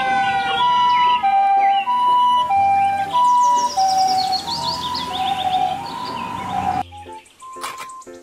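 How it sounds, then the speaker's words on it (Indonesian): A toy ambulance siren wails in a repeating two-tone electronic pattern, loud and close, ending with a few short beeps. "Mobil ambulans."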